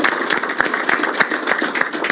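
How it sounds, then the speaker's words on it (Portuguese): Crowd applause for a São Paulo union, a dense steady patter of many hands clapping with sharper individual claps standing out, fairly loud and continuous. "Uma salva de palmas para esse sindicato aqui"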